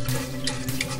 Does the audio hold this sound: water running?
yes